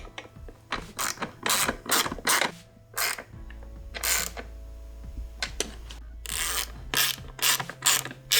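Ratchet wrench tightening radiator brace bolts on a Suzuki RM 250 dirt bike: rapid bursts of sharp clicking pawl strokes in quick repeated runs, close and loud, with short pauses between strokes.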